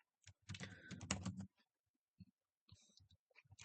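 A command is typed on a computer keyboard in the AWS command line: a dense burst of close keystrokes, a short pause, then a few more scattered clicks.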